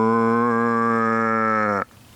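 A cow gives one long, loud, sustained moo at close range on a farm, held steady for nearly two seconds before cutting off abruptly into near silence.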